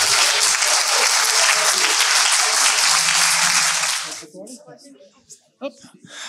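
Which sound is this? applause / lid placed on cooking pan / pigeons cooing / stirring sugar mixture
applause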